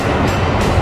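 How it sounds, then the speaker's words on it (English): A metro train rumbles past, loud and close, with a dense continuous roar of wheels on rails and no talk. "Metro."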